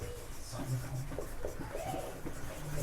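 Chalk or marker scratching across a board during a Class 10 maths lesson on triangles, with short strokes spread over about three seconds under a steady room background, no voice over it.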